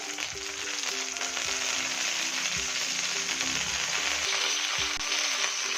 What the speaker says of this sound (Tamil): பாருங்க, ஒரு பக்கம் ஃப்ரை ஆயிடுச்சு. நம்ம திருப்பி போட்டுடலாம்.